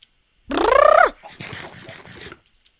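A single loud, drawn-out squawk followed by a quieter run of rapid clucks, then silence, from a chicken in a video game.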